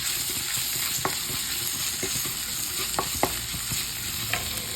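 Oil sizzles steadily as ginger-garlic paste fries in a pan with cardamom and nigella seeds, with occasional soft scrapes and clinks from stirring.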